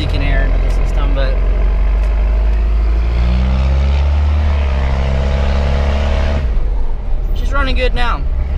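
A diesel truck engine runs steadily after its injectors are bled, a loud, deep, constant rumble close by, with a voice talking over it.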